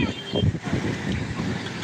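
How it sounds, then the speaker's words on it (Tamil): Strong wind gusting across a fishing shore during heavy weather, buffeting the microphone in loud uneven rumbling blasts, with a person speaking over it. "இங்க பாருங்கள் எவ்வளோ காற்று அடிக்குதுங்க பாருங்கள் மொத்தமாக காற்று அடிக்குதுங்க"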